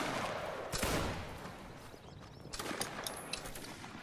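Musket volleys crack out in a Waterloo battle game, with a sharp ragged burst of shots near the start and another scattered crackle later, distant and fairly faint against battlefield noise.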